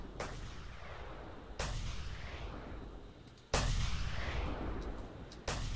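Gunshots in the video game Just Cause 2 multiplayer, four loud sharp blasts spaced a second or two apart, each with a long rumbling tail and echo that fades until the next shot.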